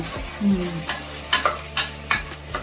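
A spoon stirs vegetables and turmeric in a frying pan for a quick lunchbox rice, giving four distinct close scraping knocks at a steady pace over a low sizzle.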